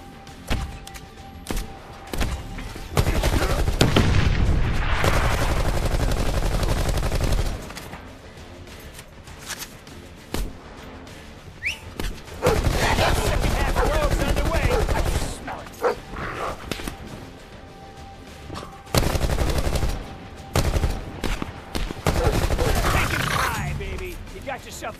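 Sentry turret gunfire in Black Ops IV multiplayer, bursts of rapid automatic shots and booms that come in several loud stretches separated by quieter gaps, with voices talking over parts of it.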